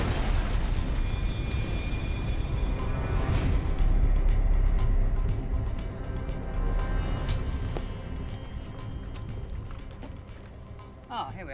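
A tank gun fires a squash head shell at a steel plate: a heavy boom rolls into a long, loud rumbling tail that slowly fades, with voices speaking around it.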